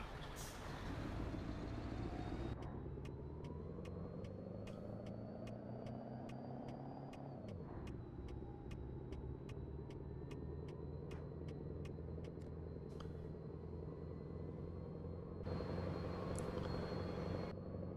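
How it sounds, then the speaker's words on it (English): A heavy truck engine from American Truck Simulator hauling an oversized load drones steadily, its pitch rising through a gear then dropping, with regular ticking clicks over the continuous rumble and a faint voice at times. "I like the sound of the engine too."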